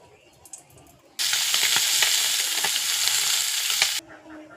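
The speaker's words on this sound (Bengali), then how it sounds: "এখন ভেজে নেব এগুলো।" Small punti fish hit hot oil in a pan and erupt into a loud, steady sizzle that holds for about three seconds, with scattered crackles and pops, before cutting off sharply back to quiet kitchen ambience.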